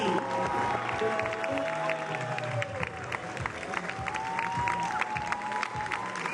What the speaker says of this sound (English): a round of applause for the first team.